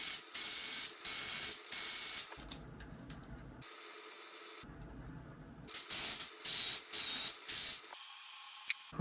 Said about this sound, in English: We just have to put the grease in there and close it back up.